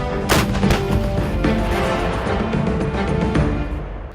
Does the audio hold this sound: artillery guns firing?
yes